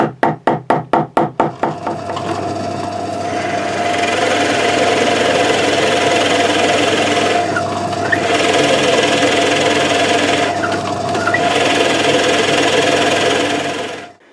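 A drill press with a Forstner bit bores into wood on a custom Les Paul guitar body, starting with a quick series of rhythmic thumps before settling into a loud, sustained grinding drone with brief dips as the bit is lifted.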